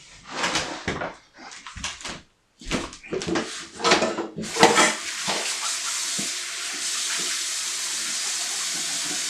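Tap water pours steadily into a kitchen sink during hand washing, a continuous rushing hiss that takes over after some earlier clatter and handling noises.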